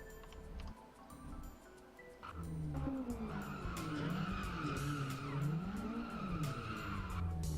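Car tires skidding and squealing while oversteering in a racing video game, a wavering screech rising and falling in pitch over a steady engine drone, building after a quieter start and continuing to the end.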